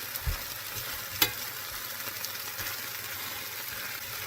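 Hashbrowns fry in butter in a cast iron skillet with a soft, steady sizzle, broken by a few low knocks and a brief scrape as a flat metal spatula presses them flat.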